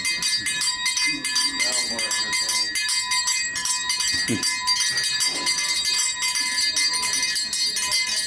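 A hand bell rings steadily and loudly throughout in a bike shop, with voices talking faintly underneath.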